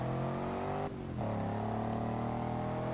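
A Range Rover Supercharged fitted with a Jaguar F-Type engine in a racing video game, a loud sustained engine drone with a brief dip during a gear shift before pulling hard again, close and steady.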